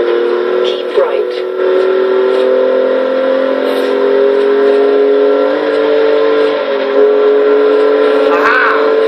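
A 2014 BMW i8 races a McLaren F1 in Forza Horizon 3, its engine holding a loud, steady drone with rising and shifting pitch throughout, while a voice talks over the car sound.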